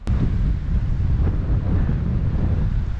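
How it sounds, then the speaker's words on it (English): Strong wind buffets the microphone on a riverbank during fishing, a loud continuous low roar and rumble with no voices. "This wind is killing me,"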